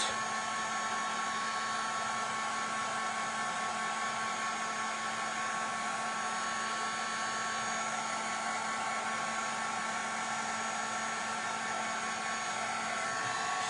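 A hair dryer blows in a constant, even whoosh with a steady motor whine throughout, held close while drying paint, with no voices.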